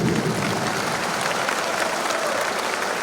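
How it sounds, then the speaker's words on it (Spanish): Sustained applause from a large audience at a political congress in Bolivia, a dense steady roar of clapping heard close and loud for the whole stretch. "Otro fuerte aplauso para Argentina"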